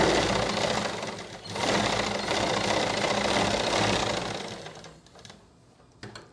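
A sewing machine runs steadily, stitching a blouse lining along a border, its loud whirring motor continuous for several seconds with a brief dip before tapering off near the end.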